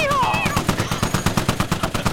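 Rapid automatic gunfire in the squad shooter game Squad, a steady, loud burst of evenly spaced shots, with a voice heard briefly at the start.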